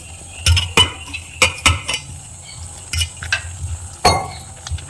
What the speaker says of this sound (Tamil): நல்லா கலக்கிக்குவோம்.